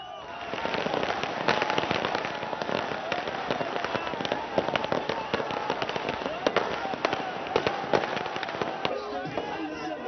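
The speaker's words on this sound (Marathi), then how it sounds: "फटाक्यांची आतषबाजी देखील दुसरीकडे आपल्याला बघायला मिळते" Rapid, irregular crackling bursts of firecrackers set off by political party workers outside an Enforcement Directorate office, with a crowd's noise and voices underneath throughout.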